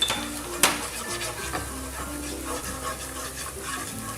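Spices are stirred into a pan, a utensil scraping and rubbing against the metal with one sharp clink near the start, steady and close over a faint sizzle, with no talking.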